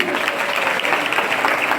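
A short burst of dense clapping from a school audience during a cleanliness quiz programme, steady and fairly loud for about two seconds.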